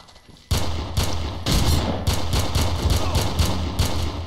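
Gunfire in the Red Faction video game rings out as a rapid, steady series of loud, close shots, each one a sharp crack with a heavy low thump.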